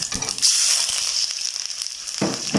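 Pieces of Mekong giant catfish fry in hot oil in a wok, giving a steady, bright sizzle with crackling bursts throughout and a louder spitting flare near the end.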